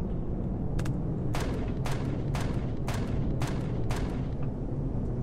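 Gunfire in the space survival game Empyrion: about eight sharp shots in an irregular run, fairly faint over a dense steady rumble of engine or ambient noise, with no talking.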